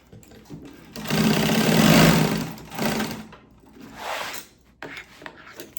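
Sewing machine stitching the edges of a waxed canvas pouch in two loud whirring bursts, the first longer than the second, with quiet pauses and faint handling sounds between them.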